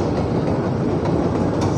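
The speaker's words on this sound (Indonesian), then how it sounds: "Ada KRL lagi." An electric commuter train (KRL) rumbles past close by in Indonesia, a steady dense roar with faint rhythmic clatter of wheels on the rails throughout.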